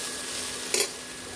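Mashed tomato is stirred into sizzling ginger garlic paste in a pan, giving a steady frying hiss with one brief scraping stir near the middle, close and fairly loud.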